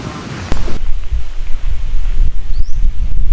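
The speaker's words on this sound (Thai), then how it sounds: "ลมล่างเนี่ยพัด แรงนะครับ" Strong low-level wind gusting through trees, with a continuous loud roar and rustling of leaves, mixed with heavy buffeting on the microphone and no talk.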